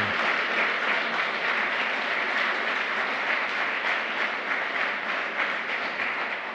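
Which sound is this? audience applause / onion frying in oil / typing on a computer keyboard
audience applause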